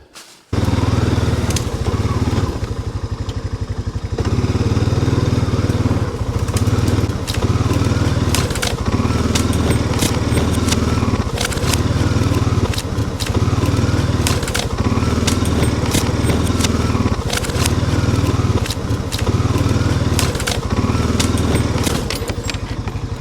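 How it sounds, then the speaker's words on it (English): An ATV engine drones loudly and continuously as it drives back and forth compacting a dirt service road, revving and easing in repeated passes with crunching underneath. "let's bring the ATV up and try to compact this down a little bit. We'll run back and forth over it."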